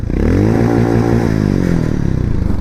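A Harley-Davidson X440 motorcycle revs loudly and close by, its deep, rich exhaust note swelling and holding steady for a couple of seconds with a rumbling, pulsing throb.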